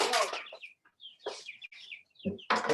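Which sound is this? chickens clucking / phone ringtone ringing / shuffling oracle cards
chickens clucking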